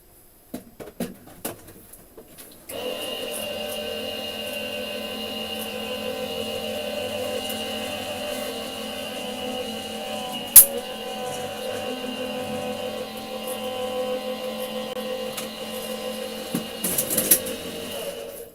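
A craft die-cutting machine processes card paper for an interactive card, starting after a few light clicks and running as a steady, fairly loud whirring drone with a sharp knock midway and a few taps near the end.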